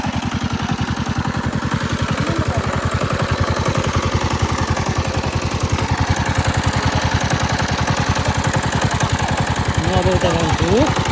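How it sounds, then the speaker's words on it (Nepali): A tractor climbs a hill beside farm fields, its engine chugging in a fast, steady rhythm close by, with a voice heard faintly at times. "यो चाहिँ ट्र्याक्टर उकाल्दै हुनुहुँदो रहेछ त।"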